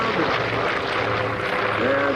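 A warbird airplane at an airshow drones with a broad, rough engine roar that stays steady and fairly loud throughout, with a commentator's voice talking over it.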